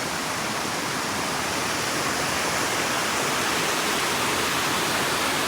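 Waterfall cascading along the Appalachian Trail near a bridge, a dense, constant roar of rushing water filling the whole clip without any voices.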